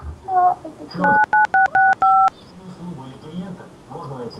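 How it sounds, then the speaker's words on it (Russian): A telephone keypad sends a quick burst of DTMF tones, about six digits dialed one after another in an even rhythm, clear and close, with muffled talk faintly before and after. "Кто-то вводит цифры на телефон."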